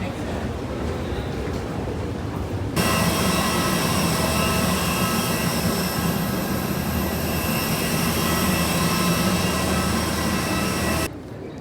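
Steady loud roar of a jet airliner's engines heard from inside the cabin on a flight to Udaipur, a broad continuous drone that swells partway through and cuts off abruptly near the end.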